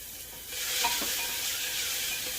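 Onions and mixed vegetables sauté in a pan with a soft, steady sizzle that rises after a moment, with a light stir partway through and no voices.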